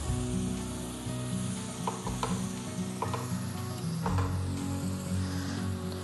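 Melting cheese for a morel fondue being stirred in a pot, with a steady sizzling bubble and repeated soft scraping strokes, close and fairly loud with no voices.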